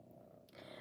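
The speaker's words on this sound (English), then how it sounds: "Now she's purring." A house cat purring close by, a soft steady low rumble throughout a brief moment with no talking.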